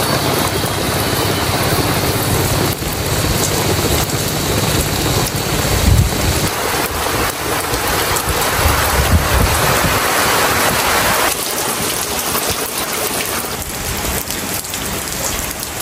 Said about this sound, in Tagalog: Lumakas na po lalo ang ulan.